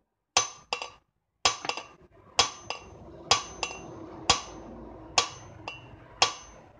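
Light metallic taps on a part of a 1962 Johnson 18 hp outboard motor, about a dozen sharp, close clinks arriving singly and in quick pairs with short pauses between, no talking.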